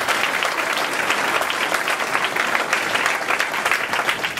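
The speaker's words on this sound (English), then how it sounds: "Please give them a big round of applause." Audience applause rolls through a 9/11 remembrance ceremony, a dense, sustained crowd clapping without speech.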